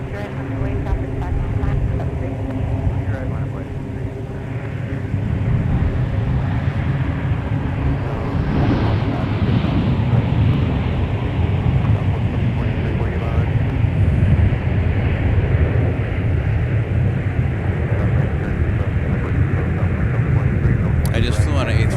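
A Delta Airbus A321 arriving from Tampa at MSP airport roars loudly and continuously, its jet engine noise swelling and sweeping past, while people talk over it.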